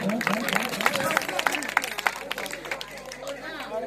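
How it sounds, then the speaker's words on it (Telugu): An audience at a Christmas dance event claps loudly, sharp irregular claps ringing out over crowd chatter and voices, the clapping thinning toward the end. "అందరూ చప్పట్లు కొడదాం గట్టిగా."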